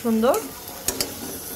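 Fried lentil dumplings being stirred into a spiced catla fish curry with potatoes in a pan, giving short, close scraping and sizzling stir sounds with a brief tonal sweep at the start.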